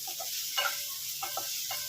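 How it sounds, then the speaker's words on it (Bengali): Onion and tomato frying with salt in a pan of oil, giving a steady close sizzle with a few soft stirring scrapes, quiet and brief, with no speech. "আমি একটু নুন দিয়ে আগে একটু ভালো করে ভেজে নিচ্ছি, টমেটোটাকে নরম করে নিচ্ছি"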